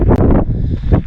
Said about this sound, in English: it's just been really, really windy out here.